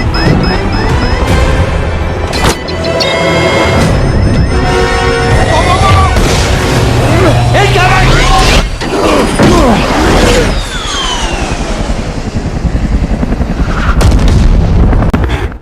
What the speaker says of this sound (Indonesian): tiba-tiba sebuah basoka kembali ditembakkan